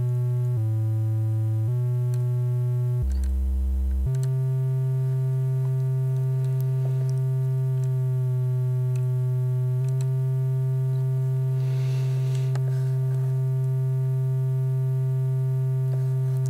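A steady electronic sine tone from a single oscillator steps through a few pitches in the opening seconds, then holds one pitch, loud and continuous.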